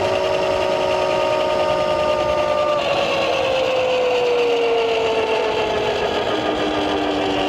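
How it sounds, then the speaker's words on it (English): A MEGAWHEELS D2 electric dirt bike climbs a hill at speed, its motor giving a loud, steady high whine that slowly slides lower in pitch over rushing wind noise. "the bike is running 35 miles an hour up the hill"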